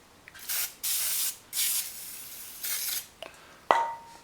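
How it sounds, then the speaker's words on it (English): A WD-40 aerosol can fires four or five short hissing bursts at close range, each about half a second long, followed by a light metallic clink and tap. "And then I'll use good old WD-40."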